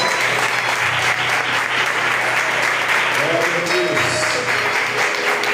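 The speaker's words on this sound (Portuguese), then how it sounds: "Aplaude e glorifica o Senhor." A church congregation applauding, a dense, steady wash of clapping that fills the whole stretch at high volume, with faint voices mixed in underneath.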